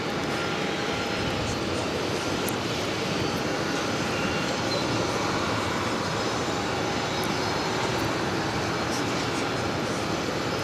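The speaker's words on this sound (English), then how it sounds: "Emirates A380 flights daily here at JFK. One coming in from Milan, Italy." A steady broadband jet roar from an Emirates Airbus A380 arriving at JFK from Milan, holding an even, continuous rumble at moderate distance with no talk over it.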